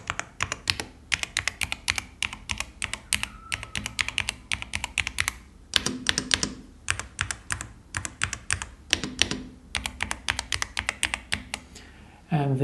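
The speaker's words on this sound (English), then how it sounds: "This keyboard comes with the milk switch, and I find the sound to be thinner." A Yunzii mechanical keyboard with milk switches is typed on steadily and close up, producing thin, crisp clacks in quick flurries with short pauses between bursts.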